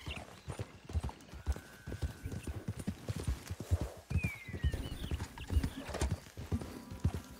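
Horse hooves in Red Dead Redemption 2 Online beat a steady, rhythmic clip-clop, with a short whinny partway through, all close and moderately loud over faint game ambience.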